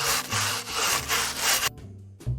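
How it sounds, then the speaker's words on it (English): Steady, loud abrasive rubbing strokes on a carved wooden tiki as the charred outer layer is sanded away, with a rhythmic back-and-forth texture that pauses briefly near the end, no voices. "We're removing the char layer just so we have a more even complexion on the tiki and not as splotchy as it would be earlier."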